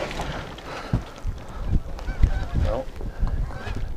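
Geese honk repeatedly during a goose hunt in a blizzard, their calls overlapping amid wind and a few thumps, with some faint talk in the background.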